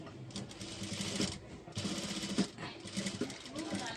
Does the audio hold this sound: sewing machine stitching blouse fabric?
yes